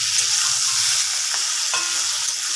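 Vegetables sizzle loudly in a hot frying pan while being stirred vigorously, with scraping and clattering of the spoon breaking through the constant bright hiss, close up with no talking.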